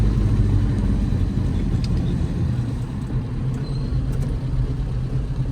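A 1984 Volvo 242 driving, a steady low road rumble and engine drone held at an even level throughout, with no talk over it.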